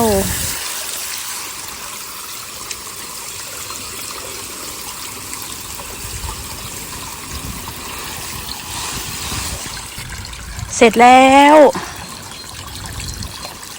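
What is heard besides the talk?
garden waterfall water feature flowing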